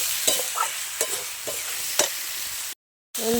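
Kohlrabi being stir-fried in a pan, with a steady sizzle broken by several sharp scraping stir strokes at a regular pace, then a brief cut to silence before the frying resumes.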